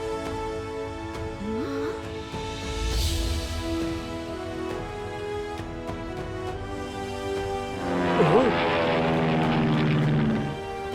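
A propeller-driven flying machine in a cartoon whirs steadily, with a tonal, musical layer that swells louder toward the end; no one speaks.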